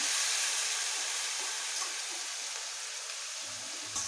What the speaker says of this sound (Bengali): ডালিয়াটা দেওয়ার পরে এইভাবে আমি একটু ভালোভাবে সবজিগুলোর সঙ্গে এইভাবে মিশিয়ে নিচ্ছি।